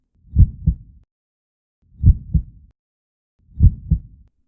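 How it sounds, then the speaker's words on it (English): Three slow, deep double-thump heartbeats, evenly spaced and alone, with silence between each pair. "The only sound that grew and grew like a timpani drum was my heartbeat."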